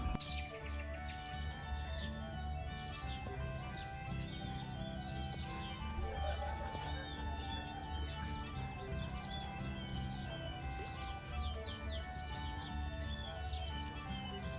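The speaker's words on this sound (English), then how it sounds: "The tui, one of the coolest birds endemic to New Zealand. It's a very interesting call." A New Zealand tui calls alone in a long, varied stream of clicks, chirps and liquid whistles, layered and fairly close over steady background tones.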